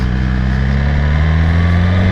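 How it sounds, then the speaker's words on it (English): A 2018 BMW S1000RR sport motorcycle's loud, steady exhaust drones with a deep throaty rumble, held at high revs without letting up. "You open her up, she barks a pretty good amount."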